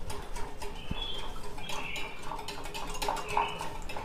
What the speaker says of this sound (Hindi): पानी को दही में अच्छे से मिक्स कर देंगे।